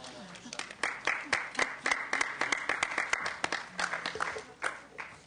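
Applause fills a Senate committee hearing room, with many hands clapping steadily throughout and a voice talking faintly under it.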